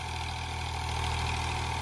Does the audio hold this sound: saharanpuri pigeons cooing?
no